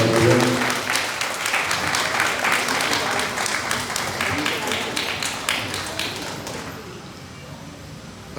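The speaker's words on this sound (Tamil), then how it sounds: "அன்புடன் பலத்த கரவொலி கொடுத்து அவரை பாராட்டுகிறேன்" Applause honours a speaker at a Tamil pattimandram debate during Mandalabishekam celebrations at Neyveli Sri Kathirkama Velavan Temple: a crowd claps loudly and steadily under a voice on a microphone, and the clapping slowly thins out toward the end.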